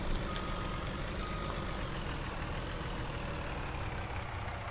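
An IT truck in the Farming Simulator 19 game idles with a steady engine drone while its reversing alarm beeps repeatedly over it, loud and continuous with no speech.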